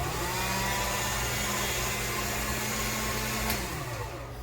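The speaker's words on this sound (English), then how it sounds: "Let me roll it through an Acosta machine." Polymer clay fed through a pasta machine set to setting 3 produces a loud, steady motorized drone that holds its pitch and then winds down slightly near the end, close by, with no talking.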